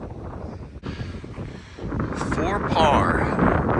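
Strong gusts of wind buffet the microphone during a disc golf round at Anderson River Park, a steady roaring rumble that builds louder in the second half, with people talking over it.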